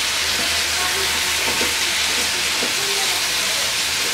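Potatoes and eggplant frying and being stirred in a pan, a loud steady sizzle with low rumbling and occasional spoon scrapes, a faint voice in the background.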